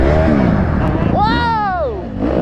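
A dirt bike engine revs up sharply and falls back, loud and close at a busy lot, with people talking and shouting around it.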